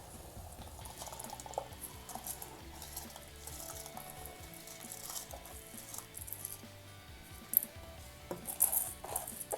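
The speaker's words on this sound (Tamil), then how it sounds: "இப்போ தண்ணி நல்லா கொதிக்க ஆரம்பிச்சிருச்சு" A pot of water for cooking brown rice bubbles and simmers with a steady, soft rolling hiss and occasional louder pops, close by and without speech.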